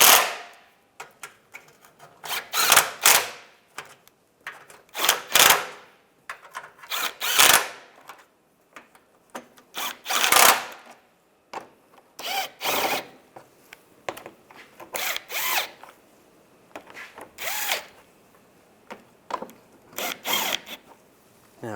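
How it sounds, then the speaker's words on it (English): On a 2014-2019 Toyota Corolla, radiator mounting bolts are run down with a power tool in short whirring bursts, about a dozen separate spurts with brief pauses between them, close and fairly loud with no talk. "And these bolts, make sure everything lines up. I'll snug these down."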